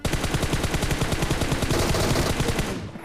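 A new machine gun in PUBG Mobile fires a rapid, continuous burst of close-range shots, loud and evenly spaced, lasting about three seconds before cutting off, with no voices.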